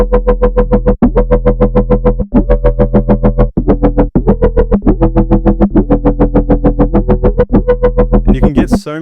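Gritty, distorted synth bass with a wavetable swept through a Harmonic Series table by an LFO, its tone shifting in a steady pulsing rhythm of repeated notes, loud and upfront with no voices.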